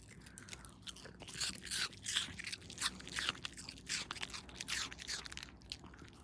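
A pet crunches and chews an apple up close, with repeated wet bites and crunchy mastication in an irregular rhythm, fairly quiet and without talk.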